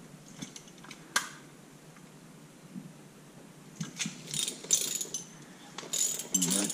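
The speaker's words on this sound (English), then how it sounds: "Using the socket to hold the crankshaft still." A socket wrench ratchets against the crankshaft of a Honda CB125E motorcycle engine, giving faint, scattered clicking bursts that grow busier toward the end in a quiet workshop.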